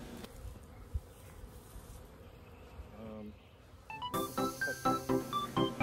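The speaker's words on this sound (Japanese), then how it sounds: "この木の上ですね、ここに分蜂したミツバチたちの塊がありました。" A swarm of honey bees clustered on a tree, giving a soft, continuous buzzing hum; louder tonal sounds join over the last couple of seconds.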